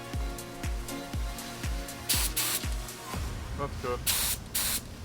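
Bursts of spray gun hiss laying primer onto a 1967 Mustang, two longer blasts separated by short pauses, alongside rhythmic low thumping and a voice speaking briefly.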